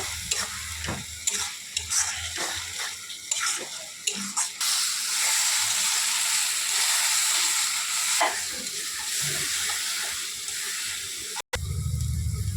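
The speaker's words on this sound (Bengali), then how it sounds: "এবার হলুদের গুঁড়ো লঙ্কা লবণ দিয়ে দেবো করে কষিয়ে নেব" Ginger-garlic paste with turmeric, chili and salt fries in a pan for Bengali chicken kosha, with repeated close scraping stirs at first, then a loud, continuous sizzle that ends in a brief cut.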